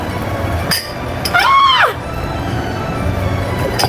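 Newly bought drinking glasses clink in a toast. A bright ring sounds at about the middle and fades out, with brief sharp taps before and after it over a noisy background.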